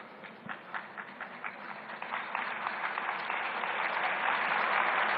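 An audience at a Delhi political event with the chief minister and actor Anupam Kher starts with scattered claps that swell into steady, loud applause filling the room.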